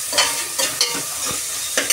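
Boiled vegetable pieces and sliced onions tossed in hot oil, a loud continuous sizzle close by, punctuated every half second or so by brisk spatula strokes scraping the pan.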